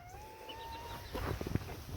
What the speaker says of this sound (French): c'est un petit coq barbu d'Anvers